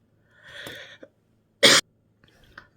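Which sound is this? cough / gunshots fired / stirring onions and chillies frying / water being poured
cough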